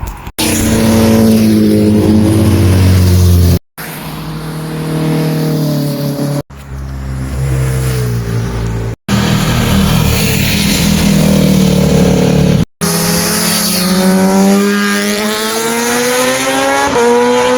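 Loud engine roars from vehicles passing by during street carspotting, a series of revving, pitch-shifting passes cut one after another, with strong harmonic whine and no talking.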